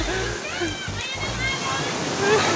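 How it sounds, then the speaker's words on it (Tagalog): Strong sea waves rush and crash at a beach in a steady loud wash of water, with voices of people talking over it. "Lakas ng alon, grabe."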